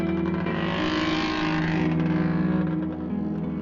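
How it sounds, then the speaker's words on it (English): Fifth scale RC cars race at Walton Raceway during the 2018 Canadian Nationals, their small engines making a continuous buzzing drone that swells and fades as they pass nearby. "This little piece of it is for fifth scale RC racing."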